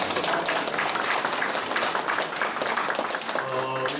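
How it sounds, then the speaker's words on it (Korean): Church congregation applauding a choir after a hymn, a broad, lively clapping texture that holds steady, with a faint organ-like tone entering near the end. "우리 찬양대를 통해서 영광받은 하나님 앞에 영광의 박수 올려드리겠습니다"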